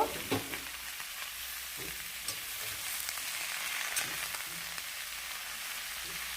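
Snake gourd sizzles and crackles steadily in hot oil as it is stir-fried, with a few scrapes of a spatula against the pan and no talking.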